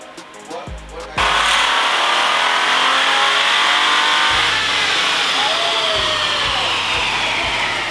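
Hyundai Sonata rental car engine running on nitrous, loud and sustained at high revs after a sharp jump in level, with a steady raspy roar and a few brief low thumps toward the end.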